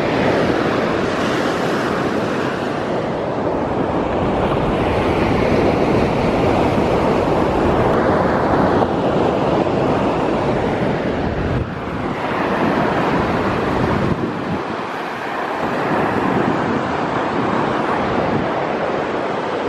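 Steady roar of ocean waves rolling onto a Florida beach, continuous broadband surf wash with wind buffeting the microphone throughout, close and loud with no speech.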